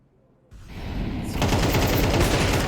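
An AWP sniper rifle fires during a Counter-Strike match. Quiet lead-in, then a sharp gunshot onset followed by rapid sustained gunfire and in-game combat noise, loud and near.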